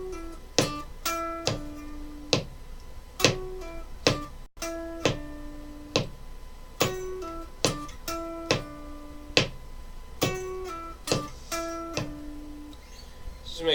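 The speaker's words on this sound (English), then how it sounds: "I want to practice with the metronome with this, basically 2 notes per beat for everything." An electric guitar plays a solo phrase with pull-offs at two notes per beat against a metronome, short plucked notes repeating in a steady rhythm, quiet and close with no talking.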